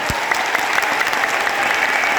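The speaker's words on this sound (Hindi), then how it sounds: "जोरदार तालियों से इस 3 दिवस की चर्चा का स्वागत करिए आप सभी गड़गड़ाहट के साथ।" A large crowd at a religious discourse gathering bursts into loud, dense applause, a thick continuous roar of clapping with faint voices mixed in.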